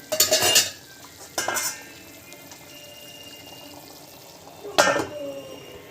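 Curry being stirred in a pan with a metal spoon, three distinct bursts of scraping and clinking separated by quiet stretches of soft simmering.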